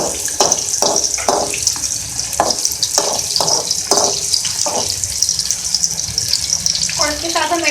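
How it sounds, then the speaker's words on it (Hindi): Garlic cloves frying for masoor dal, a loud steady sizzle with a run of stirring scrapes and clinks against the pan, close and continuous. "और लहसुन के जवे। को हम पहले थोड़ा सा फ्राई कर लेंगे।"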